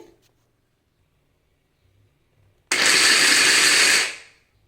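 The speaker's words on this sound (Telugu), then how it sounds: "నేను ఇలా క్రషర్లో పెద్ద ముక్కలుగా కట్ చేసి వేసుకున్నాను" Electric crusher chopping large onion pieces, starting after a quiet stretch with a loud whirring burst of about a second and a half, then stopping abruptly.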